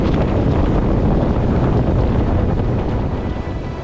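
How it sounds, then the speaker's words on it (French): Wind roars and water rushes loudly and continuously aboard the racing sailboat Arkema Express, sailing at 30 knots at night, with the gusting noise easing slightly toward the end. "Ambiance nocturne à bord de Arkema Express à 30 nœuds."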